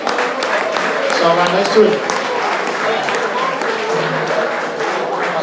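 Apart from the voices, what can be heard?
round of applause at auction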